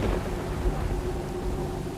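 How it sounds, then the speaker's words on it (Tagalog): Heavy rain pours down with a low, continuous thunder rumble throughout a dense, noisy storm, with no distinct strikes or voices. "Bumuhos din ng malakas na ulan at kidlat na nagsisilbi kong ilaw sa dilim."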